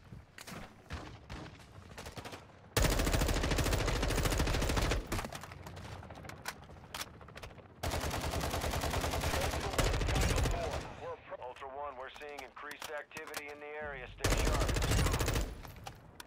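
Gunfire in Warzone 2.0 DMZ: long bursts of rapid automatic shots in loud clusters separated by short pauses, with whining mechanical game sounds in between and voices talking in places.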